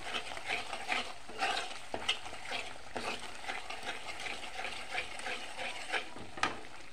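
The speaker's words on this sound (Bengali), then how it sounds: "এখন আমি মশলাটা কষে নেব" A spice paste with Kashmiri chilli is sautéed for a paneer dish, with soft sizzling under repeated stirring and scraping strokes, close and moderately quiet.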